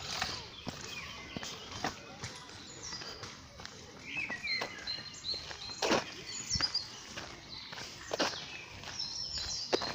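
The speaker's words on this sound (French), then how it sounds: "Écoutez bien les oiseaux, écoutez." Birds chirp and twitter intermittently in the distance in a Paris park while footsteps crunch steadily nearby on a path.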